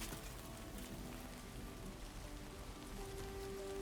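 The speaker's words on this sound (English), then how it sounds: "It's already raining" Steady rain falls in Death Stranding 2, a soft, continuous patter on surfaces that stays even and fairly quiet throughout, with a faint tonal hum joining near the end.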